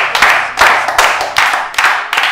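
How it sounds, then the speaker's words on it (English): Several bursts of hand clapping in a Yoruba comedy series, loud and close, roughly six sharp rhythmic pulses from a small group with no speech. "a round of applause for Sobe"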